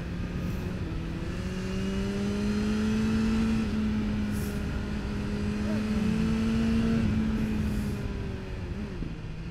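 A BMW S1000R motorcycle engine hums steadily while riding in rain, its pitch rising and falling gently as the throttle shifts, with wind rush underneath, close and continuous.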